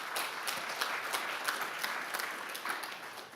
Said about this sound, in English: a huge round of applause already for Lauren and Jordan